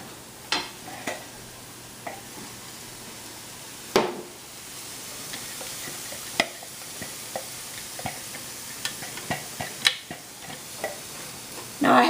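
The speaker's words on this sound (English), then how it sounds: "We're just gonna give it a good mix to get all the tomato paste incorporated with the meat mixture." Meat filling with tomato paste is stirred in a pan, with a soft background sizzle broken by scattered sharp taps and scrapes of the spoon against the pan.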